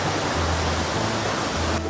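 Chae Son waterfall in Lampang, Thailand, a steady, heavy roar of rushing water, loud and close, constant hiss with no breaks.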